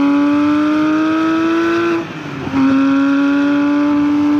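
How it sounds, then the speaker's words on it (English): A Porsche engine with titanium exhausts holds a steady high-pitched drone, briefly dips and shifts pitch, then settles back into a loud sustained tone. "titanium exhausts that sound absolutely terrific"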